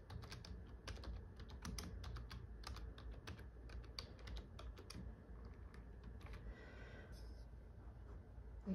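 A computer keyboard clicking as a holiday message is typed, quick uneven bursts of close keystrokes with short pauses, quiet room and no voices.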